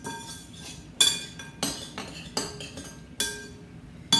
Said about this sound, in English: And stir this up. Give it a good mix.